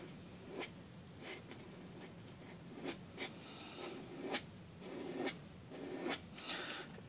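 A flexible dip pen nib scratches across paper in short, evenly spaced strokes, faint and close, with no speech.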